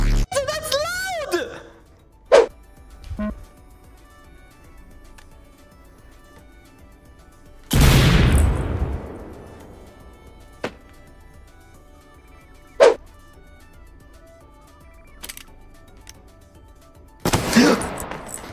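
A gun fires several times in an indoor game scene: one big booming shot with a long decaying tail stands out among a few sharper, shorter cracks, all loud and spaced seconds apart.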